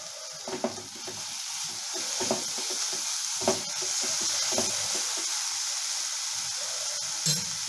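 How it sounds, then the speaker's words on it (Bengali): Prawn chop filling with sugar and turmeric sizzles in a hot pan, a steady close hiss broken by periodic scraping stirs of the spatula, with no voices. "আবার একটু কষে নিচ্ছি"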